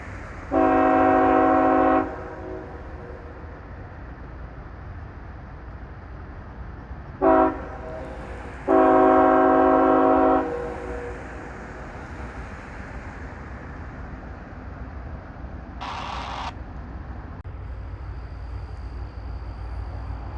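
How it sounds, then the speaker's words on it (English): A train horn blasts as the train approaches a road crossing near a railroad bridge in Kenova, first one long sustained blow, then a short toot and another long blow, with a brief fainter honk later over a rumbling background. "Let's listen to the horns first. It's coming across the crossing."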